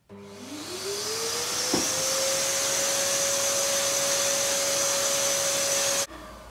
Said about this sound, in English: I'll just vacuum that up because otherwise it's going to annoy me